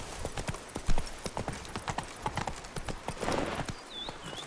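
Roach the horse's hooves clip-clop in a steady, fairly quick rhythm across ground in the Witcher 3 video game, a long run of crisp, close hoofbeats, with a brief whinny-like tone near the end.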